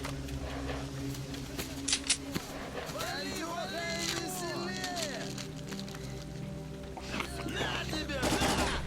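Bursts of video game gunfire in a firefight, with rapid shots and a few sharp cracks under continuous excited chatter from several players.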